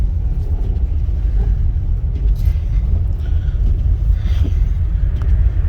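Steady loud blower roar from a car's windshield defogger running while driving through a blizzard in West St. Paul, Minnesota, blending with road rumble and engine drone for the whole stretch, with no talking.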